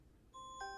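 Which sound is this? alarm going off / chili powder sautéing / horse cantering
alarm going off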